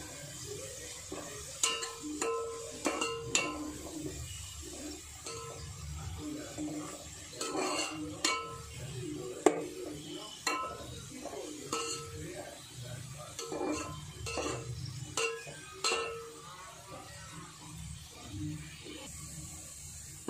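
A pan of chicken is stirred and fried for dum biryani, giving a soft steady sizzle with scattered scrapes and clinks of a spoon against the pan. The sound is quiet and close.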